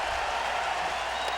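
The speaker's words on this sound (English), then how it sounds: "cheering lustily in the early innings tonight." A Cleveland Indians crowd cheers loudly at a 2007 ALDS playoff baseball game against the New York Yankees, a dense steady roar of many voices across the whole short moment.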